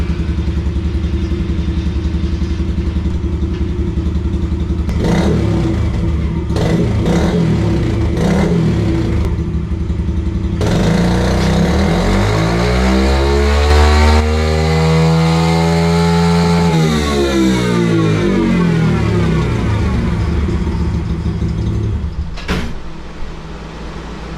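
A Yamaha TTR 110 pit bike engine revs hard on a dyno, loud and close. The pitch climbs and falls through sweeping sustained pulls and ends with a brief burst.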